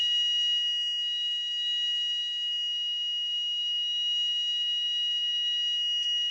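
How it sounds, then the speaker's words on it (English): A smoke or fire alarm sounds continuously in a hotel room, a loud, steady high-pitched electronic tone holding without a break from start to finish. "the alarm's gone off in the hotel room"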